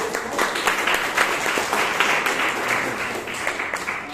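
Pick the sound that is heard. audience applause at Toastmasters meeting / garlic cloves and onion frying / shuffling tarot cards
audience applause at Toastmasters meeting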